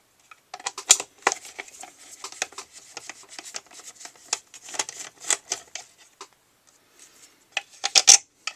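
Screws being backed out of the front housing of a belt sander in a machine shop repair, heard as close, irregular scraping and rasping clicks with short pauses and a brief louder burst near the end.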